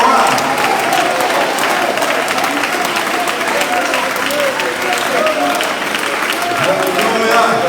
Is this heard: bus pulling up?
no